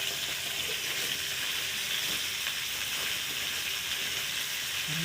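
Bitter gourd and potato frying in a pan, a steady, close sizzling hiss with faint crackles throughout and no voices.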